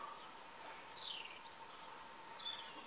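Small birds chirp and warble in a quiet outdoor setting, with several thin, high calls rising and falling in short phrases over a steady faint background hum.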